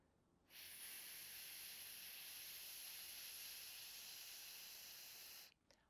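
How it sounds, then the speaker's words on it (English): A long, steady breathy hiss as air is pushed out through the teeth or lips on an S or F sound, close and even for about five seconds before cutting off, with no talking. "you're going to take a small F or a small S sound"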